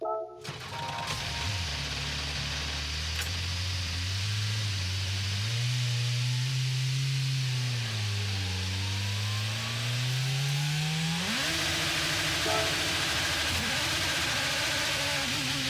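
The 2016 Honda NSX Concept-GT race car engine in Gran Turismo 7 cranks and starts, then idles with a loud, steady rumble that rises and dips slightly. Near the end it climbs into a higher, revving pitch.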